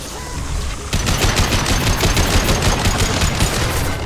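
Sustained rapid automatic gunfire in Mass Effect 2, with dense, loud shots rattling continuously after a brief quieter start.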